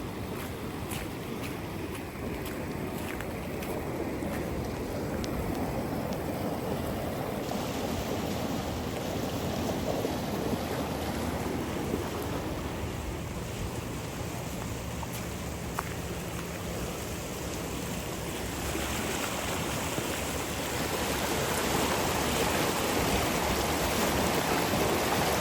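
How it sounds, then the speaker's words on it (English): Floodwater of Willow Creek near Sioux Falls, South Dakota, swollen into a raging river across farmland by a small bridge, a continuous loud rushing roar with wind noise, steady throughout and no talk. "Tiny little creek is now a raging river."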